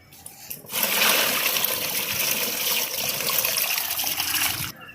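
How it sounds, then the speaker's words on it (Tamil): Water is poured steadily over cocopeat in a garden, making a continuous close splashing and trickling rush for about four seconds before stopping abruptly. "இப்போ பாருங்கள் அதுக்கு மேலேயே தண்ணி ஊற்றிட்டே இருக்கேன்."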